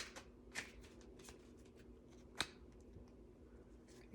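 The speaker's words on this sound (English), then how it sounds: "I'm going to go ahead and shuffle and cut this deck." A tarot deck being shuffled and cut in a quiet space: faint papery rustling punctuated by two crisp card snaps, close up and unaccompanied.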